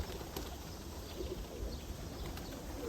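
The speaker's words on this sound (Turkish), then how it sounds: "Güzel bir güvercin." A pigeon coos softly in the background over a steady, noisy hiss, faint and somewhat distant.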